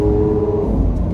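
A Lamborghini Aventador S's large mid-mounted engine behind the cabin, heard from inside as a loud, close, steady low drone with a held tone over a brief stretch, no talking.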